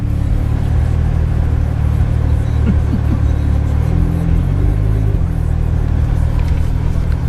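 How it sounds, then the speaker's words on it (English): A Ferrari makes a U-turn on a street, its engine rumbling loudly nearby with a rising rev partway through amid steady traffic noise. "somebody just decides to do a U-turn. Look at that Ferrari"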